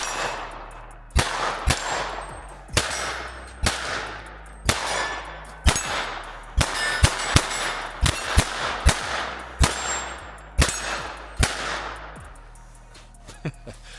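A .22LR pistol fired outdoors in a long string of sharp, loud cracks, roughly a dozen-plus shots at an irregular but brisk pace, each with a short ringing tail, close and without talk.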